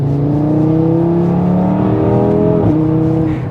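Audi RS3 accelerating hard in third gear, its engine note climbing steadily in a loud, continuous drone with rising harmonics and a brief dip near the end, heard from inside the car with no talking.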